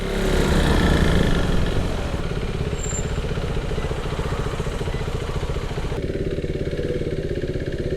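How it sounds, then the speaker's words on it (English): A KTM RC390 motorcycle engine runs steadily while riding through Andheri East, a continuous buzzing drone with wind rush, loud and close throughout. "I got on the motorcycle and started my journey to the service center in Andheri East"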